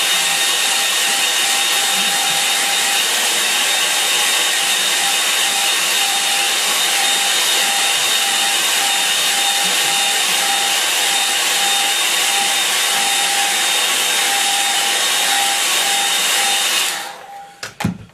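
A hair dryer blows steadily on a watercolour painting of a Scottish loch, a loud constant whine and rush of air held for about seventeen seconds before it cuts off abruptly near the end.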